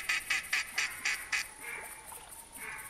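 Ducks in theHunter Classic hunting game, mallards and wood ducks on the water, give a rapid run of six distinct quacks followed by softer, drawn-out calls, fairly faint and with no talk.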